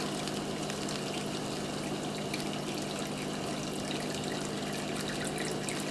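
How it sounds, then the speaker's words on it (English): Chicken stock being poured into a hot pan while making a chicken Vesuvio sauce, heard as a steady, close, continuous liquid splash and sizzle throughout with no talking. "And then we're going to pour in the chicken stock."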